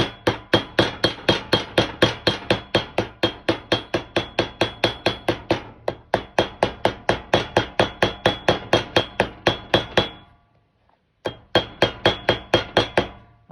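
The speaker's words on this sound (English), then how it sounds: "final touch with ball peen hammer" A ball peen hammer beats the edge of a two-man crosscut saw scabbard in a long run of sharp, rapid, evenly spaced strikes, close and loud, with two brief pauses and no talk.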